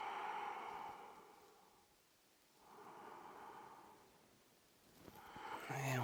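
Slow yoga breaths, close and soft: two long airy exhales rise and fade with a quiet pause between them, and a fresh breath begins near the end.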